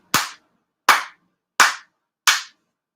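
Four sharp hand claps at a memorial service, evenly spaced about three quarters of a second apart, each crisp and close with quick decay and silence between.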